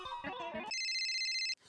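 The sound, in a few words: telephone ringing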